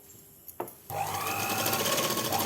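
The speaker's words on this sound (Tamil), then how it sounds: "இங்கிருந்து அப்படியே தையல் கூட்டத்தோடு அப்படியே லைனாக அடிச்சுட்டு வரோம்" A sewing machine stitches a suit pant seam: after a couple of soft clicks it starts up and runs in a continuous, close, rapid whirring drone.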